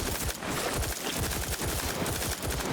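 Dense, continuous gunfire rattles in a sci-fi shooter, The Outer Worlds 2, as a player shoots up clusters of crabble eggs, loud rapid shots overlapping with little pause.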